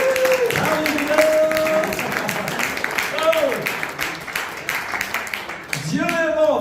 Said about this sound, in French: Donnez-moi l'applaudissement, Seigneur.